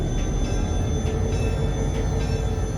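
Inside a locomotive cab on the Belton, Grandview and Kansas City Railroad, air brakes are set as the train is tied down, giving a loud, steady rumble with hiss and faint squeal, with no voices.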